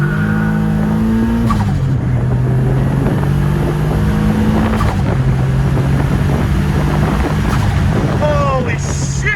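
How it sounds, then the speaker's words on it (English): Turbocharged Infiniti G35 engine held against the brakes, a steady low drone rising and falling in pitch as boost builds, with wind buffeting and whistling turbo tones near the end. "Gonna brake boost a bit. Build up the boost."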